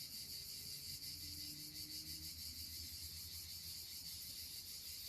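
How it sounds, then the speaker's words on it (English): Crickets and other insects chirp outdoors in Italy, a steady, dense high trill that never lets up, quiet and even throughout, with a low rumble of background ambience beneath and no voices. "All the beautiful insects, alive and happy and just being."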